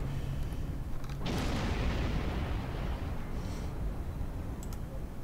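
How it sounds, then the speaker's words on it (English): Weapon fire in a Star Trek Online starship battle, with photon torpedo and energy blasts landing as a loud, dense burst followed by a sustained rumbling roar and some faint sharp pops toward the end. "Fire a torpedo back. I don't care that they already died. Hit them with a torpedo anyway."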